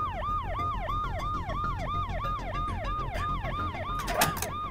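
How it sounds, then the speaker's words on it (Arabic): An ambulance siren wails in a steady repeating up-and-down cycle, loud and continuous throughout, with a brief burst of clatter near the end. "ليكا هاي وصلت سيارة الإسعاف."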